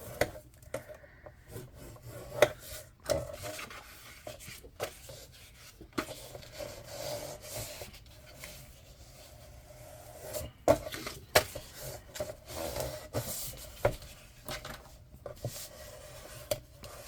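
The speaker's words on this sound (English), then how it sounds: "we're simply going to score this again at half on the 4 3/4." Paper for an album is scored at the halfway mark with a scoring tool, giving soft, close rubbing and scraping strokes in uneven bursts, quiet and with no talking over them.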